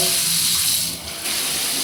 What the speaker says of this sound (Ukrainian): Також вмикається тут і вмикається ось такий душ.